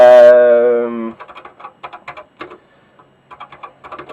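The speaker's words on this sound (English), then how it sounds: "It used to be that literally you was just typing on the keyboard like this" A burst of typing on a Dragon 32 computer keyboard, a series of quick, light clicks in irregular clusters, preceded by a loud sustained harmonic tone that cuts off abruptly.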